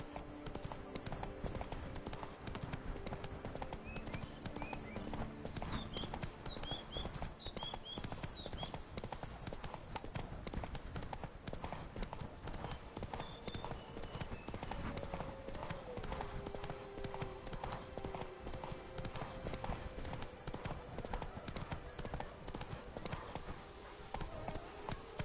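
Roach the horse gallops in The Witcher 3: Blood & Wine, a steady rhythmic clip-clop of hooves running continuously and fairly loud, with game music and ambience underneath.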